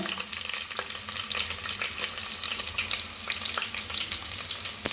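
Onions sizzling and frying in a pan for mushroom biryani, a steady, close crackling hiss with small stirring scrapes and no talk.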